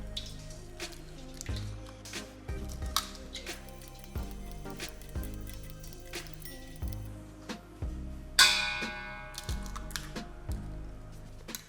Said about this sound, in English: I crack 20 eggs into a deep bowl.